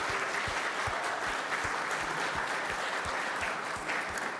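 A crowd gives sustained applause at a community awards gathering, with dense, even clapping that holds steady throughout at moderate distance.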